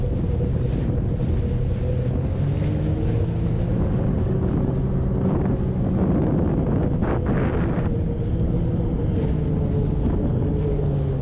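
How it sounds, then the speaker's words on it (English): A driverless motorboat circling at full speed drones steadily over water amid heavy wind buffeting the microphone, the motor's pitch wavering as it turns. "That boat the man was thrown from continued to do circles in the water at full speed"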